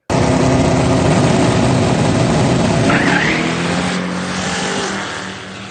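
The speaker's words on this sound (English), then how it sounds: "I'm going to show you a video real quick of Ryan racing a local DFW car in the first round." Race cars run a first-round drag race. Engines roar loudly and continuously, then the pitch climbs and sweeps as one car passes, before the sound eases and fades toward the end. No one speaks.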